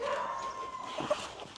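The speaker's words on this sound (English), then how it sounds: "I apologize for the dog barking." A dog barks and yips faintly in the background, a few short high calls over a quiet room.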